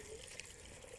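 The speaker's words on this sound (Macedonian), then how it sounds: "Значи ова е вода, ева снима малку водата" Water runs steadily from a mountain drinking fountain near a summit, a quiet, constant trickling and splashing heard alone.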